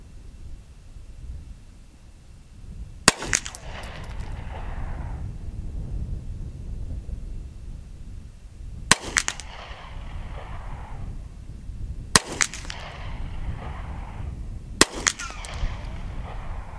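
Five sharp Hi-Point carbine shots fired at a target outdoors, spaced unevenly over the span, each a crisp crack trailing a brief echo against a low steady background hum.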